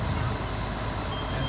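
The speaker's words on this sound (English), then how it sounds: "We've had a smoke alarm going on." A smoke alarm sounds a steady, continuous high-pitched tone beneath loud, rumbling background noise during a fire demonstration, with smoke seeping from under plastic.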